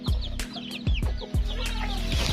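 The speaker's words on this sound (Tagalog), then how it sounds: "Tapos yung iba dito is yung mga crossbreed ng heritage chickens. Ang Orpington, Rhode Island Red, tapos native." Crossbred heritage chickens of Orpington, Rhode Island Red and native stock clucking nearby, a series of short repeated clucks at a steady rhythm with background bird chatter, no talking.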